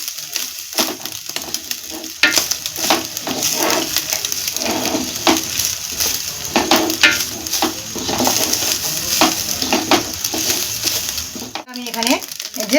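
Black pepper powder is stirred into a cooking pan for kanika bhog, giving repeated scraping and rustling strokes over a light sizzle. Occasional voice sounds come through, and a clatter of pans is heard near the end.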